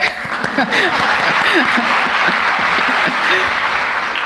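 Audience applause at an awards ceremony for a Holocaust art and writing contest, a steady wash of many hands clapping throughout, fairly loud and continuous with a few faint voices mixed in.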